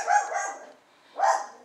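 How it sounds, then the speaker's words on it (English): Two bursts of a dog barking, a pair of quick yips followed after a brief pause by another sharp bark, fairly close and alone. "excuse my dog, that would be Boo barking, as he barks at everything"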